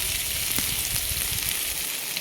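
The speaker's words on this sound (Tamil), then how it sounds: "குட்டி குட்டியாக வெங்காயத்தை அரிஞ்சு புளி போட்டு எண்ணெயில் வதக்கிக்குங்க." Chopped onions sizzle and fry with tamarind in hot oil, a steady crackling hiss close up, with a few faint stirring knocks.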